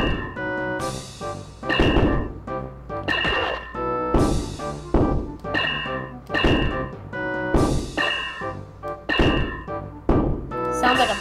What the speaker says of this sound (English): Sounds like a baseball bat.